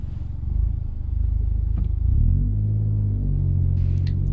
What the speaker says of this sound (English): press the accelerator to drive away